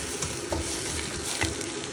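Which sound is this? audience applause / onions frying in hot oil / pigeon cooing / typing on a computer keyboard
onions frying in hot oil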